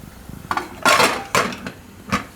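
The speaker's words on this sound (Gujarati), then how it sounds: "હવે કુકરનું ઢાંકણું બંધ કરી દેવું." A few clattering metallic clunks of a pressure cooker lid being closed, with a sharp clank near the end; close and fairly loud.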